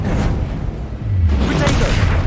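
A Confringo fire spell blast in Hogwarts Legacy combat lands as a loud, deep whooshing boom, followed by another heavy low thump amid the ongoing din of a spell fight.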